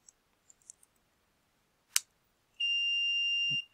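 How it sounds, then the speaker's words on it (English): A Raspberry Pi gas sensor alarm sounds a steady electronic beep that holds for about a second, after a few faint clicks and a single sharp tick, in an otherwise quiet room. "I don't know if you heard that beep in the background."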